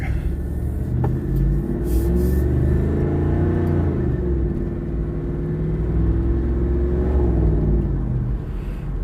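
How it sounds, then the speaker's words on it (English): A 1990s LT1 F-body car engine, intake snorkel removed, hums steadily at cruising speed, a low continuous rumble with slight rises and falls in pitch, heard from inside the vehicle. "One thing I can tell already is the car sounds different."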